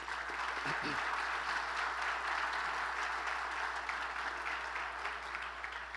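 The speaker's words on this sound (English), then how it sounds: "So one more round of applause for our principals." Audience applause fills a breakfast event honoring school principals, a steady dense wash of clapping from many hands, with a short burst of voices near the start.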